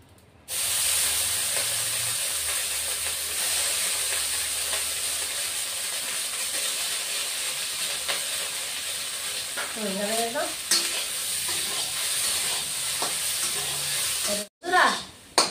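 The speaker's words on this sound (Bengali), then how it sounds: "এবার আলুগুলিও ভেজে নেব।" Potatoes fry in hot oil with a steady, close, continuous sizzle, some stirring, and a faint voice near the middle.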